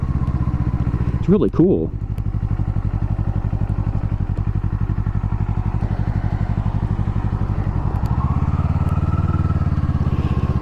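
A 2024 Kawasaki Eliminator cruiser motorcycle engine runs steadily in a low, even idle-like rumble throughout, with a brief rev near the start and a rise in pitch toward the end, under a short spoken remark.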